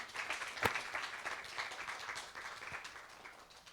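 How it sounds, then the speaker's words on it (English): Audience in a church congregation claps for a speaker, a steady patter of applause with one sharp close clap near the start, moderately faint and continuing throughout with no talking. "Let's clap for Sister Janet."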